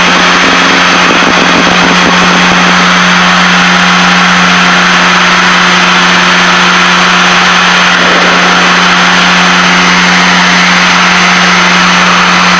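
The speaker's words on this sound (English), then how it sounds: "At sea level manifold pressure and maximum RPM, you're getting 200 horsepower out of each engine." Piper Seneca twin-engine aircraft with both engines running at high power, maximum RPM and sea-level manifold pressure: a loud, steady droning roar with a constant tonal hum, continuous and close throughout, with no speech.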